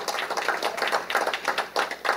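Applause at a university athletics hall of fame induction ceremony, a modest round of clapping in a large hall, heard as clustered bursts rising and dipping over a couple of seconds.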